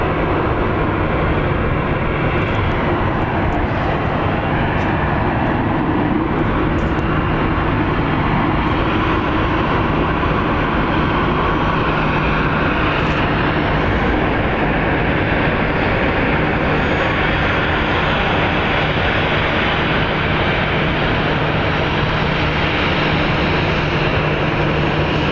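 An Alaska Airlines airliner at Phoenix Sky Harbor International Airport produces a loud, sustained jet engine roar that holds steady without a break, heard up close over the whole stretch without talk.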